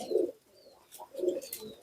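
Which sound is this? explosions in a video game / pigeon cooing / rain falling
pigeon cooing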